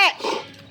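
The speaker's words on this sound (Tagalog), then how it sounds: "Ayan yung aking aso, oh." A dog gives a single short bark or yelp up close, sharp at the start and then trailing off into a brief rough, growly tail.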